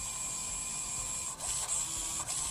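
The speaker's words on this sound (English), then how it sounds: "Looks like this servo just went kapooey." A stock RC car servo with stripped gears whines steadily with a harsh grinding buzz and a few brief clicks, close and continuous.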